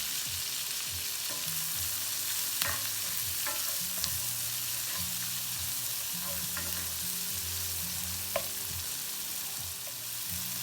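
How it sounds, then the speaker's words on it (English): Diced onion sizzles in hot bacon fat in a pan, a steady close frying hiss with a few sharp crackles and occasional stirring clatter, no talk. "you're going to take that whole diced onion that you had earlier. You're going to add it all to the pan."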